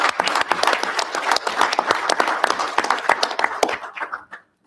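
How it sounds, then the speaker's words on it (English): Audience at an annual land bank board meeting breaking into applause, a dense patter of many hands clapping in a room, fairly close, then tapering off and stopping. "Let's hear it for Caitlin from the Land Bank"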